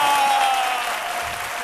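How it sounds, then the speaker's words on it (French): Audience in a TV studio breaking into steady, loud applause, a dense wash of clapping that fades slightly toward the end. "Acclamez-vous très fort."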